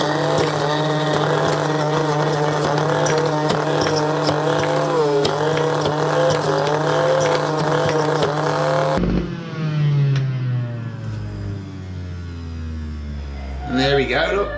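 An electric juicer running at the kitchen counter, a loud steady motor whine and grinding buzz close by that cuts off partway, leaving a brief winding-down hum and a faint rattle.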